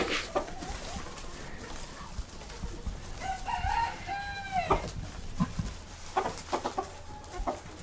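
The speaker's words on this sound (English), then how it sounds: "watch these chickens eat for a second" Chickens clucking and squawking close by while eating grower pellets outdoors in winter, with one drawn-out rising call in the middle and scattered pecking and rustling noises around it.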